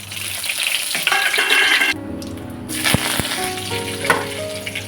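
Tempering spices hit hot oil in a pan for mutton bone soup, giving a loud, continuous sizzle with a few sharp clinks and stirring scrapes from the pan.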